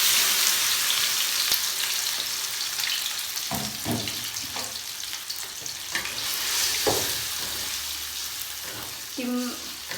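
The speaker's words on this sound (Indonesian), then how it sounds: "kalau minyak sudah panas, masukkan adonan ke dalamnya" Egg martabak batter sizzles steadily in hot oil in a wok. The loud, close frying hiss runs throughout, with occasional stirring scrapes and brief bursts.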